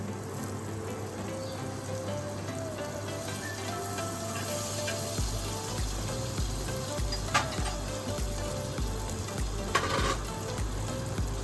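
Butter sizzles and crackles steadily in a kadai for tempering a veg Hyderabadi biryani, a continuous close frying hiss with a few sharper pops and faint stirring scrapes.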